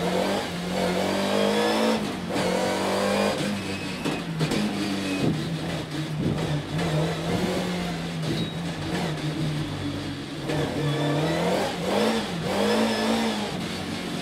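A DTM race car accelerates on track with a loud, close engine drone that rises and falls as it shifts through gears, and no talking is heard over it.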